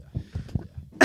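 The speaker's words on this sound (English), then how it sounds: "So I keep coughing" A person coughs repeatedly, five or six short muffled coughs in an uneven rhythm, close and fairly quiet, ending on a sharper, brighter burst.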